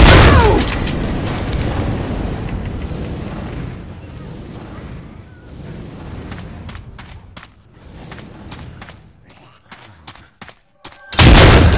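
Loud blasts of a grenade going off in the zombie shooter Left 4 Dead, a broad booming roar rolling across most of the clip, easing into quieter clattering crackles before another sharp burst at the end.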